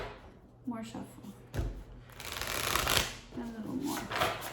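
Oracle cards shuffled by hand during a tarot reading, soft riffling and sliding bursts with a short flurry in the middle, close but fairly quiet, with a voice speaking briefly between them.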